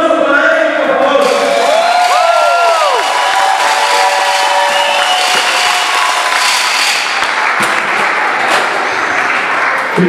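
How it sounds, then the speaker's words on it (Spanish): A lucha libre wrestling crowd applauds and cheers for Pentagon Jr., Rayden, Rey Fenix and Misterioso Jr. after their tag match, a loud, continuous roar of clapping, shouts and whoops with a wrestler's voice over the din. "Un aplauso para ellos, por favor."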